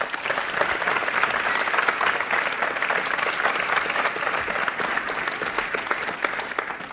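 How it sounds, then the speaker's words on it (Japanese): A room full of people applauding a guitarist joining a jazz session, dense and sustained clapping at a steady level throughout, with no break or build. "どうぞ拍手で。"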